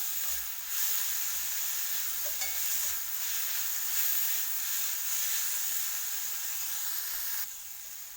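Onion, coriander leaves and green chili fry in a pan with a steady close hiss and sizzle, broken by a few soft stirring scrapes, with no talking.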